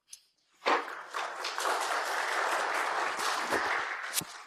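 After a brief quiet, an audience at a poetry reading by Bashabi Fraser bursts into warm, steady applause that carries on evenly at moderate volume, with scattered individual claps standing out near the end.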